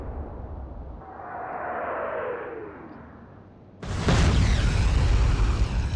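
A naval gunfire salvo in the naval warfare game Atlantic Fleet, starting with a rising whoosh of incoming fire, then a sudden heavy boom that rolls on into a long echoing rumble, loud and with no talk.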